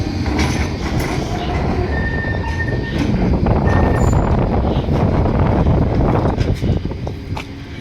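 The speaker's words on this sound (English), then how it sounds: "Oh, and here's a tram coming." A tram on the Blackpool to Fleetwood line rolls past close by, a loud steady rumble of wheels on rail with faint metallic squeals over about eight seconds.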